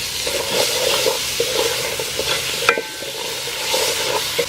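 Carrot and potato tumble into a pan of frying mussel curry, bringing steady sizzling, stirring scrapes and a few close clinks of utensils against the pan, with no voices.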